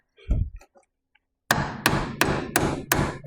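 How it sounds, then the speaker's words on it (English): A brief murmur of a voice, a pause, then five sharp metallic strikes of a hammer on a chisel, evenly spaced and ringing briefly. "So the chisel is actually designed to take the impact of a hammer."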